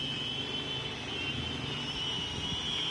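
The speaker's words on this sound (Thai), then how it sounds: "โดรนก็พยายามที่จะสู้ลมนะฮะ" Syma X25PRO RC FPV camera drone hovering in place against the wind outdoors, giving a steady, continuous high-pitched motor and propeller whine over rushing wind noise, with no talk.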